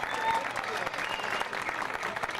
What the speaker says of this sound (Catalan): Un aplaudiment, sisplau, ben fort.